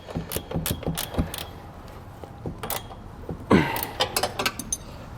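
Two wrenches working a bolt during installation of a Curt trailer hitch receiver on a 2021 vehicle, producing scattered close metallic clicks and ratcheting taps in irregular bursts, with a quieter pause midway before a clustered run of clanks.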